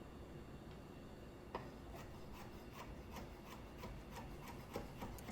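Olives are pitted by hand, giving quiet rubbing and squeezing sounds with a few soft knocks and a run of faint, regular taps toward the end, close and low in level.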